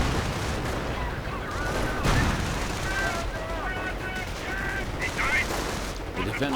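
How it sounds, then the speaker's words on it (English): Dense rattling gunfire and booming artillery from a World War II strategy game battle, with anti-tank guns and grenadiers in the fight, steady and continuous, while a commentator talks over it. "And the anti-tank gun once more finds itself without a crew, and artillery gets called in, and Joy is pretty much just going to sort t"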